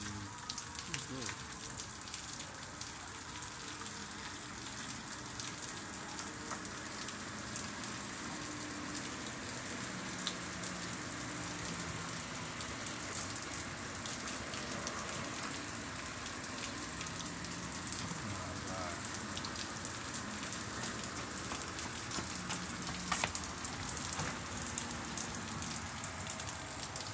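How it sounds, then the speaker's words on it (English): Steady rain falling outdoors as a constant soft hiss throughout, with faint voices talking at a distance. "So you see it's raining."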